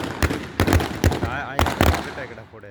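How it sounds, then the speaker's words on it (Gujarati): Diwali firecrackers burst at a temple complex: a string of sharp, loud cracks arrives in quick pairs and clusters. The bangs sound close, and voices carry between and after them. "ફટાકડા ફોડે છે."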